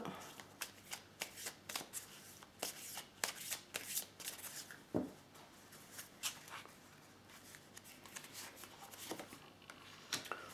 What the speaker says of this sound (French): je vais prendre encore 4 cartes